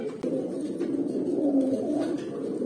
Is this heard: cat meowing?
no